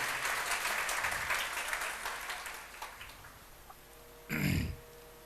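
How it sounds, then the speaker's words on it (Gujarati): Gathered audience at a religious discourse event in Porbandar clapping to welcome the main host, steady applause for about three seconds that tapers off, followed by a brief loud thump near the end. "આપણે તાળીઓથી વધાવી લઈએ."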